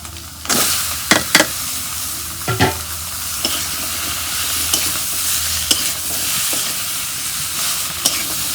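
Red radish pieces fry with spices in a pan, giving a steady sizzle broken by several sharp scrapes and stirs of a spoon, close up and with no talking.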